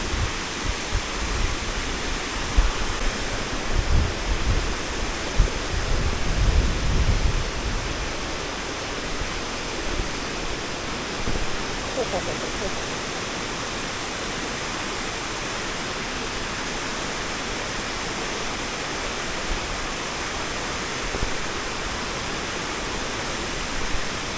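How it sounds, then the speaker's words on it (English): Marokopa Falls waterfall and river in New Zealand pour in a steady, dense roar of rushing water. The sound is constant and broad, with a slight extra rumble early on. "Gorgeous, beautiful river."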